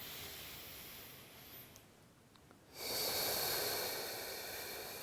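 Slow, audible breathing during a second-trimester fitness ball exercise, a softer stretch giving way to a louder, steady breath near the microphone, with no talking.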